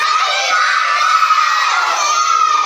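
Schoolchildren at a school birthday celebration shout birthday wishes together in a loud, sustained crowd roar that holds steady for the whole stretch without pause.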